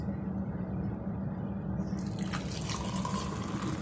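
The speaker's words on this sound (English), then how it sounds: "Pour the milk waterfall style and do this twice." Milk warmed to about 42 to 45 °C pours in a continuous waterfall-style stream for homemade yogurt, a close, even gush that brightens and gets splashier partway through.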